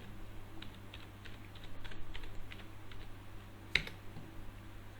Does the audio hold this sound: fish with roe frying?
no